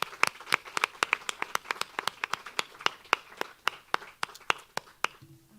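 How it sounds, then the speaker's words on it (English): Sparse, distinct clapping from a small audience at a translation prize ceremony, individual hand claps ringing out in a loose, uneven rhythm close by with gaps between them. "a round of applause for all of the 6 shortlisted works"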